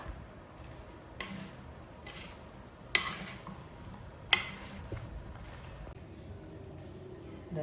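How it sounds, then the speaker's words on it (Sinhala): Chilli and salt paste being stirred into a homemade Sinhala pickle made for the New Year, with soft, faint scraping and a couple of sharper clinks of utensil against the pot in a quiet setting. "දැන් අපි අර දාගත්ත පේස්ට් එක හොඳට මික්ස් කරගන්න ඕනේ"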